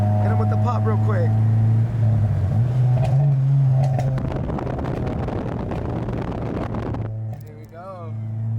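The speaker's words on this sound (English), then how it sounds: "You guys hear those pops? Hit him with the pop real quick." Idling Acura RSX running E85 fuel, its engine rumbling then revving with a burst of crackling exhaust pops, up close, with people talking over it.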